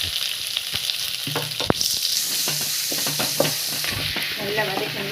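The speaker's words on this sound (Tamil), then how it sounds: "நல்லா வதக்குங்க. வெங்காயம்லாம் நல்லா வதங்கணுங்க." Finely chopped onion sautéing with curry leaves and dried chillies for chickpea sundal, a continuous close sizzle broken by repeated scraping and clattering strokes of a spoon stirring the pan.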